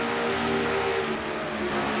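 Race car engine in a NASCAR-style stock car racing video game at the Brickyard 400, revving steadily high near 9,000 RPM, a continuous loud droning whine with no talk.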